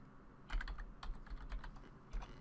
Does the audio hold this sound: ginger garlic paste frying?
no